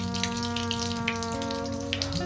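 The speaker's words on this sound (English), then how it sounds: "basically I'm draining all the water out." Water runs out of a faucet while draining, a steady rushing stream with a constant tonal hum and scattered splashing throughout, fairly loud and close.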